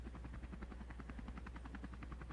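A helicopter in the video game Slendytubbies Project Rebirth, a quiet, continuous rapid rotor chop with a low engine drone, steady throughout.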